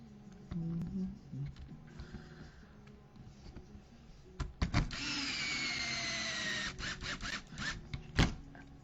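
Small screws driven into the chassis brace of an RC car during a kit build, heard as a close buzzing screwdriver whir with clicks and handling noises.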